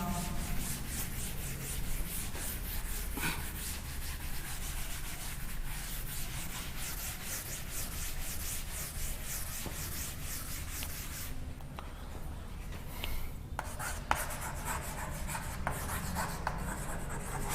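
Chalk or marker scraping steadily across a classroom board, a continuous close rubbing texture with brief pauses between strokes, no talking over it.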